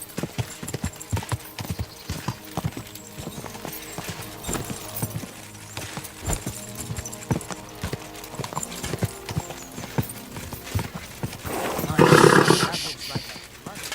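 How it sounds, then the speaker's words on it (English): Horse hooves clip-clopping in a steady rhythm, with a louder burst near the end that may be a neigh, under a busy mix of other sounds and a voice. "Easy, good horse."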